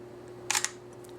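A Sony NEX-7 camera fires its shutter at a 1/5 second exposure, a quick pair of crisp mechanical clicks close to the mic over a low steady hum.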